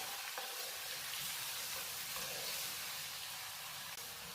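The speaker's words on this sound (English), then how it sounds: "you want to cook this until the ginger and garlic paste is a nice goldy brown" Ginger and garlic paste fries with cardamoms in a pan for chana masala, a loud, even sizzle that hisses on without a break, close up, with no voices.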